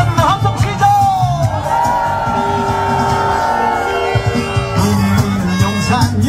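A crowd at a political protest near Yongsan Station raises a loud, sustained shouted cheer, voices blending into a continuous roar for several seconds with a voice calling out over it at the start and end.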